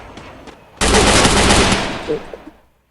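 Gunfire in Free Fire, a sudden loud sustained automatic burst lasting about a second before tapering off into a few scattered pops, with a voice faintly heard before it.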